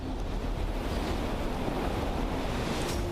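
Heavy rain pours down over Surat city in Gujarat during a late-monsoon afternoon downpour, a dense, steady roar that holds at one level throughout with no voices.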